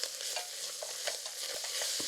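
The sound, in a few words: stir-frying beef with seaweed in a pot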